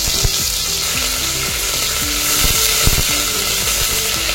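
Fenugreek seeds and crushed garlic frying in hot oil for a Marathi home-cooked offering meal, with a steady loud sizzle and repeated scraping stirs of a spoon against the pan.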